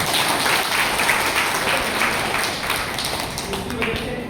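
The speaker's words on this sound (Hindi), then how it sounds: "ताली बजा सकते हैं आप?" Audience applause at a women's hygiene program held at a college in Thandla, a steady sustained clapping from a crowd throughout, fairly loud with some voices mixed in.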